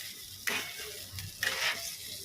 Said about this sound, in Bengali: তেলের মধ্যে ব্যাটারটা দিয়ে দিয়েছি কড়াই সরে যাচ্ছে নাড়তে গিয়ে